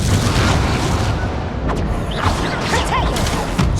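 Incendio fire spell cast in the Hogwarts Legacy video game: a loud, dense burst with booming low rumble and crackling bright flares over nearly four seconds, continuous and close, with other spell effects layered in.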